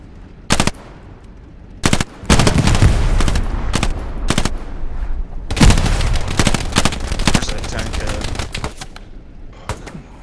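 Bursts of MG42 machine gun fire in the WWII shooter Hell Let Loose, loud and close, starting with short separate volleys and then running as long sustained rattling strings of automatic fire with no talk over them.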